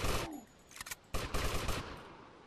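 Gunfire in the video game GTA Vice City comes as a loud opening burst, a few scattered shots, then a sustained rattling volley that fades away.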